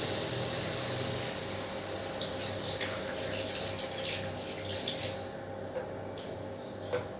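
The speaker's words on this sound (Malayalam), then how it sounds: "ഇനി ഇതിലേക്ക് നമുക്ക് കുറച്ചുകൂടി ചൂടുവെള്ളം ഒഴിച്ചു കൊടുക്കാം." Hot water pours steadily into a pan of spicy egg gravy, giving a soft continuous splashing hiss at low volume with no talking.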